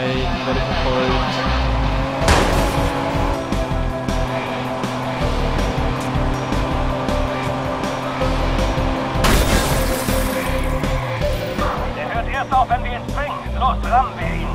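Car chase in the Watch Dogs video game, with engines revving and tyres skidding and squealing in bursts throughout, loud and close, while a voice talks over it at times.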